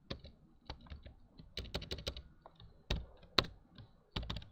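Computer keyboard typing comes through as irregular clusters of sharp key clicks, close and fairly quiet, with short pauses between bursts and no talking.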